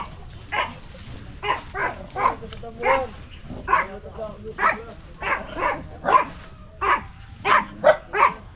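Several dogs bark in a steady series of sharp, loud barks, roughly one every half second, with voices talking faintly underneath.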